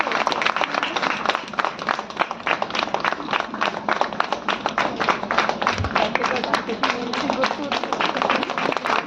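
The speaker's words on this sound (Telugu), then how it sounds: "గట్టిగా చప్పట్లు కొడుతూ రాజేంద్ర గారిని" Audience clapping loudly and rhythmically to welcome a guest at a free sewing-machine training event, sharp individual claps forming a brisk steady beat with voices underneath.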